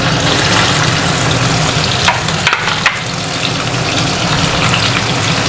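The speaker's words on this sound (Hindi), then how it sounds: "ये जो चिकन मैंने मैरिनेट करके रखा था वो सब मैं फ्राई कर लूँगी अभी करके, चिकन को मैं फ्राई करूँगी।" Marinated chicken frying in sunflower oil gives a loud, dense, continuous sizzle up close, with a few brief clacks of stirring midway and no speech.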